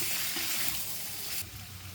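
Pieces of pre-fried paneer sizzling in an oily pan with spices and salt for chana paneer masala, a steady, loud hiss throughout that eases slightly near the end, with a faint scrape of stirring.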